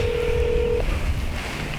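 Telephone dialing: a single steady keypad tone lasts under a second, then gives way to soft wind-like background noise with no voices.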